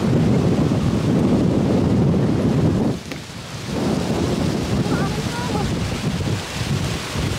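Strong wind roars outdoors in gusts, buffeting the microphone with heavy low rumble, easing briefly before picking up again, with faint voices in the background.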